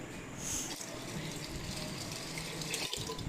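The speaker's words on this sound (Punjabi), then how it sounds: "ਦਾਲਾਂ ਨੂੰ ਚੰਗੀ ਤਰ੍ਹਾਂ ਧੋ ਕੇ ਆਪਾਂ ਪਤੀਲੀ ਦੇ ਵਿੱਚ ਪਾਣੀ ਪਾ ਕੇ ਅੱਧਾ ਪੌਣਾ ਘੰਟਾ ਰੱਖ ਦਾਂਗੇ" Water is poured into a cooking pot of washed lentils to soak them, a continuous gushing splash that stays steady and fairly close, with no talking.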